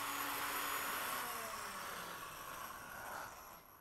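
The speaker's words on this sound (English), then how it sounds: "have this unroll my quilt and continue to load it onto the front roller" Motorized roller of an APQS longarm quilting machine winding a quilt, a steady droning whir with a faint whine that holds evenly and tapers slightly at the end, no voices.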